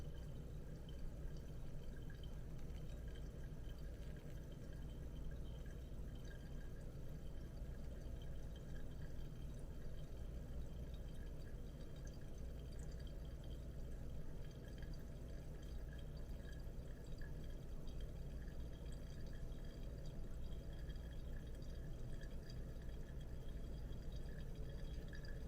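Hot water pours in a thin, steady trickle over ground coffee in a Hario V60 dripper, a faint continuous splashing hiss that lasts throughout with no talking.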